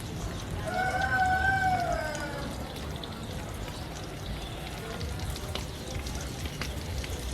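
Shrimp lumpia frying in a pan over a low flame, giving a steady soft sizzle throughout, with a brief pouring or trickling sound near the start.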